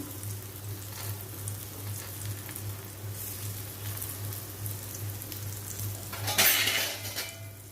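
Raw banana slices shallow-frying in a pan over low heat, a continuous gentle sizzle with a steady low hum beneath and a brief louder crackle near the end, no speech.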